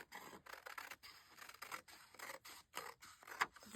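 Scissors snip through paper mini calendars in quick, close cuts with small rustles of paper between them, quiet and without talk.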